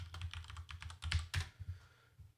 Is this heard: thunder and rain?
no